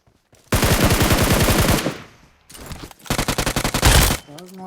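Automatic gunfire in a mobile shooting game comes in two long, loud, rapid bursts close up, separated by a short quiet gap, with a fast rattling rhythm.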